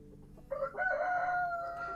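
A Barred Rock rooster, an ornamental laying breed from the USA, crows at a farm coop in sunny weather: a single loud, close, drawn-out cock-a-doodle-doo that starts after a brief pause and holds steadily to the end.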